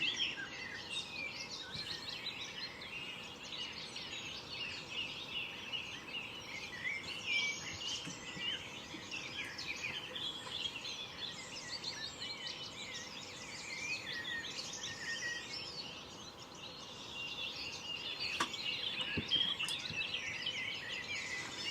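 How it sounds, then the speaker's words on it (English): Birds chirp and sing outdoors in a steady, moderately distant chorus, with insects or crickets buzzing faintly beneath and no voices. "All you can hear outside is bird song and the occasional dog bark."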